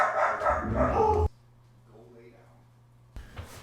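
Dogs bark close and loud in a rapid run of overlapping barks for about a second, then fall quiet, and a short burst of sound returns near the end.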